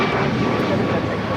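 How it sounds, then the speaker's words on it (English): United Airlines Boeing 737 MAX 9 taking off from LAX, a loud, steady broadband jet roar filling the whole short stretch, with a faint voice over it. "This is United Airlines 8167 taking off to Washington Dulles on a MAX 9"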